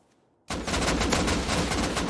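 Sustained rapid gunfire from the survival video game Rust, loud and close, bursting in abruptly after a near-silent start and continuing as dense overlapping shots.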